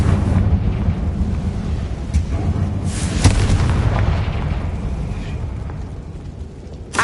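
Confringo fire spell from Hogwarts Legacy detonating with a booming blast, dense rumbling explosion noise and a sharp burst partway through, fading gradually.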